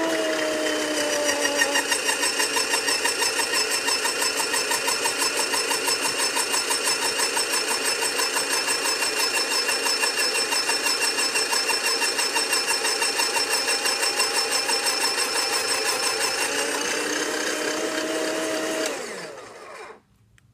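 An electric salad shooter grater shreds a bar of soap, its motor running loud and steady at close range for about nineteen seconds before winding down and stopping.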